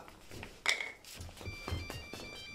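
A telephone rings at home with a bright electronic tone, sounding once clearly amid soft indoor movement and light tapping, moderately close.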